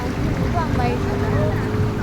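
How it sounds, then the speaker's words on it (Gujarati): Steady wind and lapping water at a seashore beach in Kutch, Gujarat, a constant broadband rush with low rumble throughout and faint voices in the background. "આ છે દરિયાકાંઠો"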